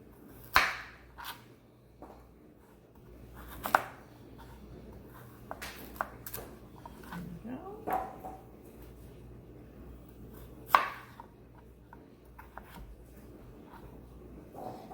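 Kitchen knife trimming sweet potato pieces into cubes on a cutting board, a few sharp isolated chops spaced several seconds apart over a quiet room background.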